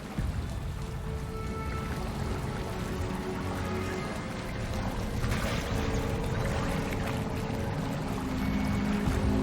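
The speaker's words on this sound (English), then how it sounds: "Look, where the water's bubbling." Bubbling water in the video game Hogwarts Legacy, a steady, loud, continuous churning and gurgling wash that runs unbroken, with no voices over it.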